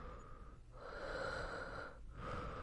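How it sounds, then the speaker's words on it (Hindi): Slow, heavy breathing heard down a phone line at night, long drawn-out breaths with a brief pause between them, steady and close with no voices. "सिर्फ वही धीमी और भारी सांसों की आवाज आ रही थी।"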